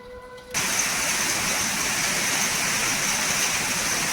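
A steady, dense rumbling hiss like a kettle at a rolling boil, loud and continuous after a brief quieter start.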